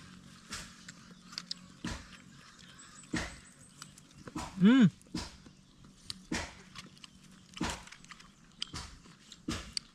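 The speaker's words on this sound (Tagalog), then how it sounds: "May kasama pati aso nakikain din." A dog chews and crunches food close by in uneven bursts, with a brief whine partway through and soft background chatter.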